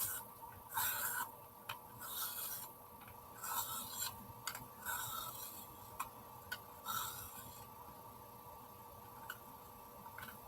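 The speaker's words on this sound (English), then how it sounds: "I need to sharpen this." A colored pencil being sharpened at close range, giving repeated gritty rasping strokes in short irregular bursts with brief pauses and no talking.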